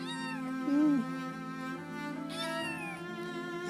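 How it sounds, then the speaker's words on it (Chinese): A kitten in a remote northern village meows repeatedly close by, giving a few drawn-out, wavering cries one after another. "这小猫一直缠着我呀，喵喵"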